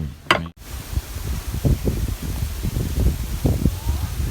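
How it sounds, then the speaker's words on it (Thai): Strong wind buffeting outside a tent at a mountain campsite in Chonburi, a steady rushing roar with gusty low rumbles and flapping, heard close. "เพราะว่าข้างนอกลมแรงมาก"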